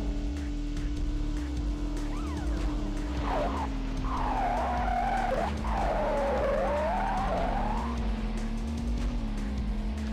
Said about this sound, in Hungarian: Hát az autó nem sikerült igazítani annyit, hogy ne faroljak.